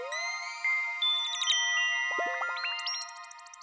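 Start-up jingle from the ZX Spectrum game Atic Atac by Ultimate Play the Game: bright, beepy chip tones rising in quick stepped runs, then rapid descending and ascending arpeggios, loud and alone with no talk.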